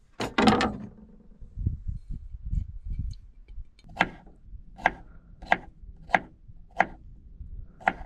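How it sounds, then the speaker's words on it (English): A knife chops onions on a board at a camp spot by Lake Mead, starting with a loud knock and scattered soft cuts, then settling into about six evenly spaced, sharp chops, close and clear with no talking. "I'm also going to cut up the onions"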